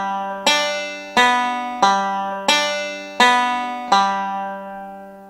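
Banjo picked in a backward roll pattern, six bright plucked attacks at a steady pace, each ringing out and decaying before the next, played alone and close.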